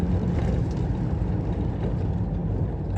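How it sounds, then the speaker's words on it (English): A VW T3 van engine pulling uphill in gear with an exhaust leak, a loud, continuous low rumbling drone from inside the cabin, steady and unbroken, with no talk. "I just hope this exhaust leak is the one that's making the car sound like it's misfiring"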